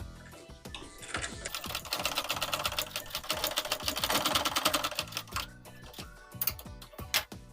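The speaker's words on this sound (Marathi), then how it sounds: "हे बघा, अशी एवढी शिलाई मारून घेतली ही." A sewing machine stitches fabric for a baby cap in rapid close bursts of mechanical clatter, pausing near the end before a few short final stitches.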